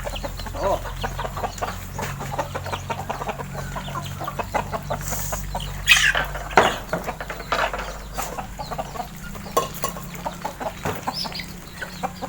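Chickens cluck and chatter steadily at close range for several seconds, with occasional louder squawks and a low hum in the background, in a rural Lao village.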